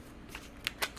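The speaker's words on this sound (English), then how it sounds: "Let's shuffle their tarot" Tarot cards are shuffled in a few brief, soft riffling bursts, faint and close.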